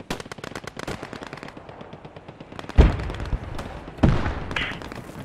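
Enemy gunfire in the shooter Post Scriptum: rapid automatic bursts crackling steadily, then two sharp, loud reports close by with lingering echo.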